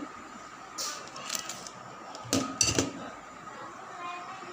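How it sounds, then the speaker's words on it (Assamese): A wok (kerahi) set down on a gas stove while making green chilli pickle gives a few short metallic clunks and clinks, close by, scattered across a quiet kitchen background. "মই গেছৰ ওপৰত এটা কেৰাহী তুলি লৈছোঁ"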